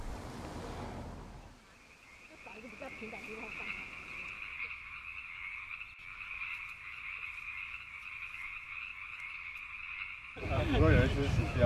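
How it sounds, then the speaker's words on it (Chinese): Frogs croak in a steady dense chorus beside a mountain stream as they migrate down to the water, a continuous rasping trill held for many seconds with a soft rushing background, louder rumbling noise at the end. "青蛙要从山里面跳到溪里面去结婚"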